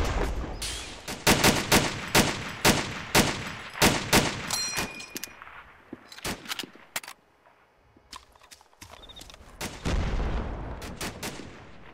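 Rapid bursts of rifle and machine-gun fire crack close by as covering fire in the WWII shooter game Invasion 1944, dense volleys at first, then thinning to scattered shots with a brief lull before firing picks up again.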